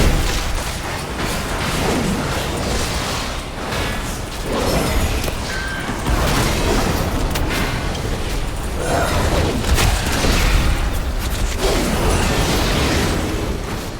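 A bomb goes off during a World of Warcraft delve at Excavation Site 9, played as a Tauren Paladin: loud, continuous booming blasts and crashing game effects fill the whole stretch without pause.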